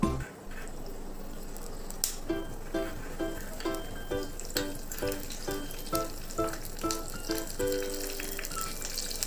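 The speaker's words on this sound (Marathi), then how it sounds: "मी त्यात कढीपत्त्याची पानं घेतलेली आहेत ती टाकूयात" Steady crackling sizzle of leaves dropped into hot oil, with a series of regular sharp pops and spits through the middle, close and fairly loud.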